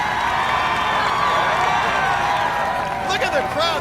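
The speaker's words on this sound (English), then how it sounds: "Look at the crowd, they're getting excited" A crowd at a weightlifting competition cheers and whoops, with a loud, sustained roar and bursts of shouting. A commentator talks over it throughout.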